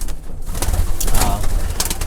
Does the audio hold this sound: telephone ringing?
no